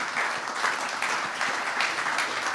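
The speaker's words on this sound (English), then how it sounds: "can we do a round of applause for Captain Raymond here?" A forum audience gives a round of applause for Captain Raymond, a thick, even roar of clapping hands sustained throughout with no one speaking over it.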